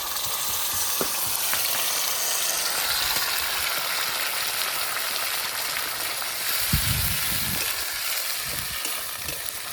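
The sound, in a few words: ground spice paste sizzling with fried onions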